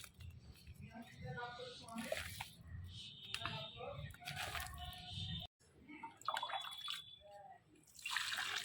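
Water trickles and splashes onto soil around freshly planted drumstick tree seedlings, a steady wet pouring with drips and squishing, close but fairly quiet, with a brief gap midway and a voice talking over it.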